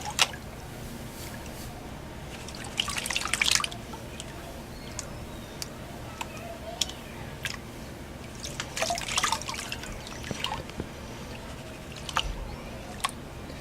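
Water drips and trickles in faint, scattered splashes while river material is panned at Bear River, soft intermittent droplets over a low steady outdoor background.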